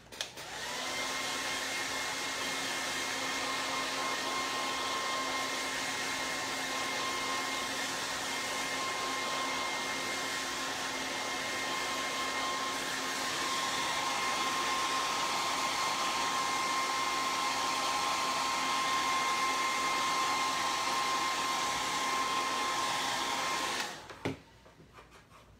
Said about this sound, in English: I'm gonna hit this one more time with the hair dryer